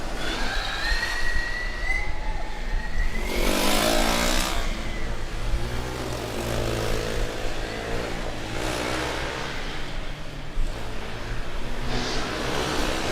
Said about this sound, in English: these combustion cars really are an assault on the senses. You can hear them